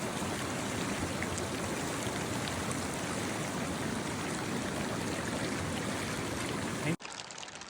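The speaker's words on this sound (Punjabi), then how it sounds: "ਮੀਂਹ ਵੀ ਪੂਰਾ ਪੈ ਰਿਹਾ ਹੈ" Steady, dense hiss of rain falling on a mountain trek in Kashmir, continuous and fairly loud throughout, cutting off abruptly near the end.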